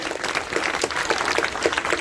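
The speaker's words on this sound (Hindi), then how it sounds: "एक बार जोरदार तालियां हमारे युवा मंडल के लिए।" Steady applause from a crowd at a general knowledge competition event in Mathura, dense clapping throughout at a constant level with no voices over it.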